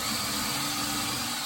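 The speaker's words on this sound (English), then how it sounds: "Let's just put a little tiny bit of pre-drill." A power drill makes a short pilot hole for the screw of a finial on a DIY coat rack, a steady loud whirring hum that holds for the whole moment with no voices.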